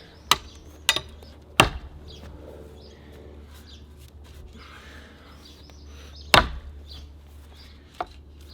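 A large Work Tuff Puzon Predator Hunter bowie knife chops into fresh pine wood: five sharp, loud whacks, three in quick succession, then a pause before two more, over quiet outdoor ambience with faint bird calls.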